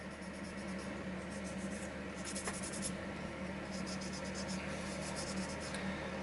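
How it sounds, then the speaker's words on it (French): Wet sandpaper sands the plastic body of a Fujimi Ferrari F40 model car, giving a soft, steady scratching rasp in repeated short strokes, faint and close, over a constant low background hum. "On continue notre petit ponçage bien tranquillement."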